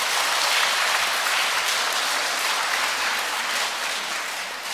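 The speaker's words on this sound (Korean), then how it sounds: "박수 치신 분 복 많이 받으십시오." A church congregation at a Korean Catholic Mass bursts into sustained applause during the priest's homily, a broad steady clatter of many hands that slowly fades.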